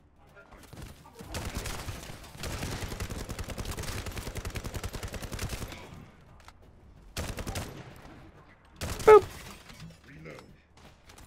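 Gunfire from a sniper rifle and hand cannon in The First Descendant video game, rapid bursts of shots in two long volleys with a louder single crack near the end, no talk over it.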